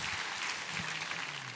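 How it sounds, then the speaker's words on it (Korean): Congregation at a church service clapping together, a dense steady wash of applause that stays loud and even for the whole short stretch with no talk on top. "우리 하나님께 감사와 영광의 박수 올려드리겠습니다."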